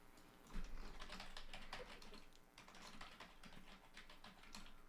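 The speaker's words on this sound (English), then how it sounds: "I was typing there." Fast typing on a computer keyboard, with a dense run of light key clicks continuing throughout, quiet and close with no voices.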